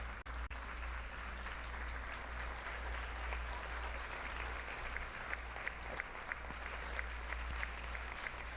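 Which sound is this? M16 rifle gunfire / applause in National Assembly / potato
applause in National Assembly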